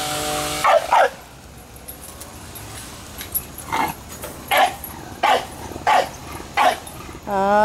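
A bully-breed dog barks noisily in a sequence of sharp, loud barks, a pair near the start and then a steady run of single barks, close by with some background noise.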